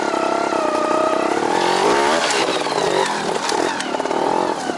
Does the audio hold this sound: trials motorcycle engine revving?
yes